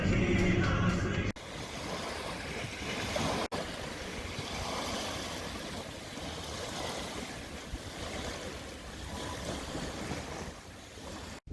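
Water and wind at a river beach on the Dnieper, a continuous rushing wash of small waves with gusty wind buffeting the microphone, steady and fairly loud throughout with no talk.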